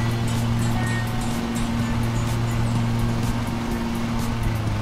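Ride-on lawn tractor engine from the Lawn Mowing Simulator game, a steady low droning hum with constant tonal bands, held at even loudness throughout with faint hiss above.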